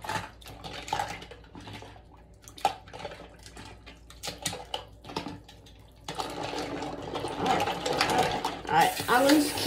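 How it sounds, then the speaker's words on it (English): Water runs steadily from a tap while toy cars are washed, growing louder and fuller partway through, with clinks of dishes and utensils being handled. "I'm gonna keep the water running a little more"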